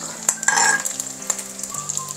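Onions sautéing in a pan with a couple of spoonfuls of added cooking oil: a bright, continuous sizzle with crackling pops, up close, interrupted by a few scraping stirs and light clinks of utensils.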